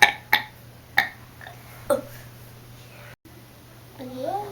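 A burping contest: short loud belches at a steady pace, one after another, then a rising throaty voiced sound near the end, with no other talk.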